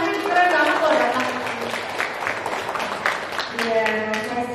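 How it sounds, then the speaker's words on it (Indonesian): An audience at a parenting seminar claps for a guest. Steady applause fills the room while a host keeps talking over it. "tepuk tangan dulu buat bapaknya."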